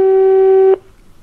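A single steady electronic telephone tone sounds loud and clear on a call that goes unanswered, then cuts off abruptly, leaving near silence.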